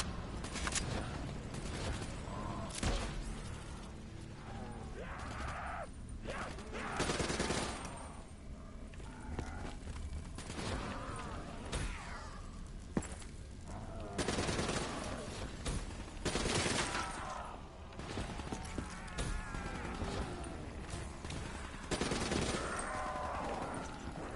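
Rapid gunfire from the ICR assault rifle in the Black Ops 3 Nightmares zombie campaign: dense bursts of shots run almost continuously through the whole stretch, loud and close, with some clanking mechanisms in the gaps.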